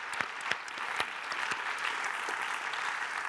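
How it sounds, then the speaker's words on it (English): A festival talk audience applauds a doctor being introduced as a speaker, with steady clapping and a few louder nearby claps standing out, sustained and moderately distant for about three seconds. "Give him a round of applause."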